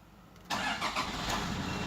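A 2012 Toyota Fortuner diesel engine cranks and catches abruptly after a quiet moment, then settles into a loud, rough, continuous diesel idle close by.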